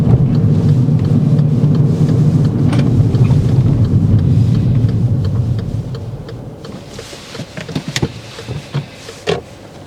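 A manual car coasts to a stop with the clutch pressed early, its steady engine and road rumble fading away over several seconds, then a few faint clicks and knocks inside the cabin, no talk.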